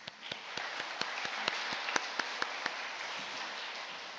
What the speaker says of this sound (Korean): 지나치게 잘한 찬양대 위에서 다시 한번 박수하겠습니다.